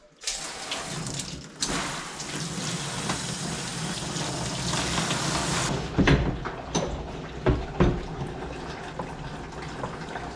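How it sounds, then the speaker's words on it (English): Warm water gushes steadily from a tap into a tub for a Yorkie's grooming bath, a continuous rushing flow broken by a few splashes and knocks near the end. "warm up the water, and start his bath"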